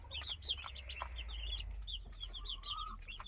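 Silver Leghorn chicks cheep in a quick, busy chorus of high, thin peeps, some overlapping and some stretched into longer trills, against a low background hum.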